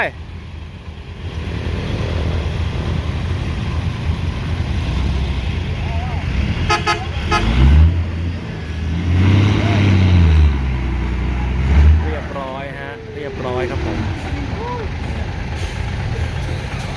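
A Kubota M108S tractor pushes a ten-wheel truck that has backed into a pond and sunk in mud. Heavy engines drone throughout, surging louder mid-stretch, with short horn toots and a hiss like an air brake, while people talk over it.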